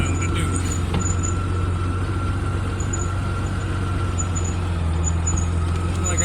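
Honda Goldwing 1500 motorcycle cruising through a neighborhood in cold weather, a steady, loud low engine drone with constant road and wind noise throughout, no breaks or shifts.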